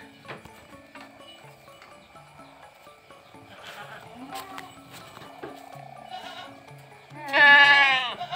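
Goats from a village farm keeping Boer and Sirohi crosses bleat in the distance over insect chirps and faint farm noise, until one loud, wavering bleat rings out up close near the end.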